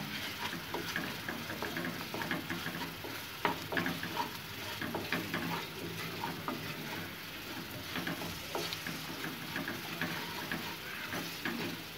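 Prawn pepper fry with cumin powder being stirred in a pan: a soft, steady sizzle under light scraping and tapping of a spoon, close and quiet throughout.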